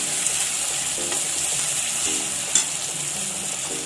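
Onions and spices sautéing in a pan for a puffed-rice breakfast dish, a steady close sizzle with light stirring scrapes and one brief clatter, no voices.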